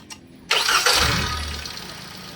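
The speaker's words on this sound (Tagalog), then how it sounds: "Tsaka nyo ngayon ipa-start itong makina." A Hyundai Accent engine cranks with a brief whirring catch, then roars loudly up close before settling into a rough, fading rumble, a vehicle with a check-engine fault, noisy engine and unstable idle.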